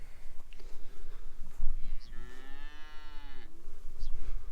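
A cow in an early April pasture gives one long drawn-out moo at close range, rising and falling over about a second and a half, over steady outdoor background noise with no talk.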